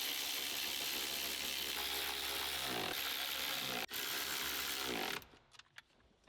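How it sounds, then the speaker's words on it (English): A power tool drives a screw to fasten a plate back onto an Audi B8 chassis, a loud continuous whirring drone with a sharp click, then it stops and a few small rattles follow. "screw the plate back into place"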